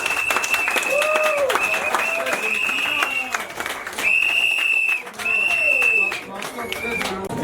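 Guests at a Nzebi customary wedding break into bursts of applause and cheering, a dense crowd clatter rising and falling in waves, mixed with loud whistles or ululating calls and voices.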